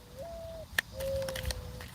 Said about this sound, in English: I don't know what type of bird that is, but I want to say it sounds like an owl.